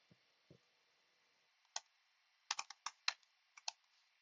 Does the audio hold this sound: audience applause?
no